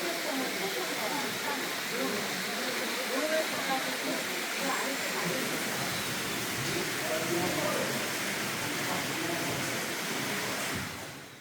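Deungseon waterfall in a rocky gorge, a steady broadband roar of falling water that stays loud and even throughout.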